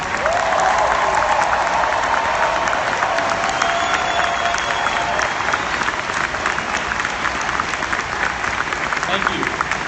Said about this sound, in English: Can I get a round of applause for our military?